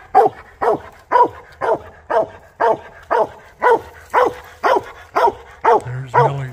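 A hunting dog barks at a treed raccoon during a night coon hunt, a loud, near run of about a dozen evenly spaced barks that ends in a short whine.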